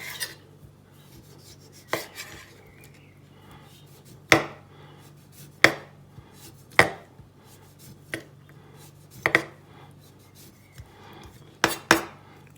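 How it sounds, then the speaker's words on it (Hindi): A freshly sharpened knife cutting salad ingredients on a board for an Italian-style chicken salad with fresh fruit, about a dozen crisp, separate chops at an uneven pace, close and quiet with no talk. "ये तेज़ कर ली थी मैंने इंतहाई, इसलिए प्यार से बड़े ये काट रही है।"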